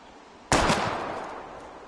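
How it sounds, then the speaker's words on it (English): A single sharp gunshot in the video game Life is Strange cracks loudly and close, fired at bottles, then a short fading tail dies away. "We're gonna shoot all these bottles without wasting a single bullet."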